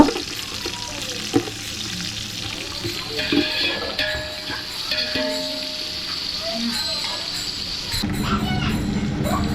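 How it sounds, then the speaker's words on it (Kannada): Cashews frying and being stirred in ghee in a pan with onions and whole spices for ghee rice, a steady close sizzle with scraping stirs and a louder bubbling swell near the end. "ನಂತರ ಕ್ಯಾಶ್ಯೂ ಹಾಕಿ ಚೆನ್ನಾಗಿ ಫ್ರೈ ಮಾಡ್ಬೇಕು"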